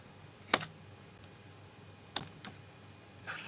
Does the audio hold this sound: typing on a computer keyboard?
yes